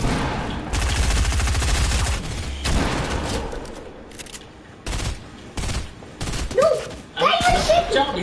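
Gunfire in the Fortnite video game, bursts of rapid automatic shots followed by separated single shots and short volleys, loud and close, with voices talking intermittently.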